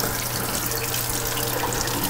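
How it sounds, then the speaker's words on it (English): Warm water runs steadily from a sink tap over a canvas, a continuous close hiss and splash without any talking. "I like to run it underneath the tap with just a little bit of warm water"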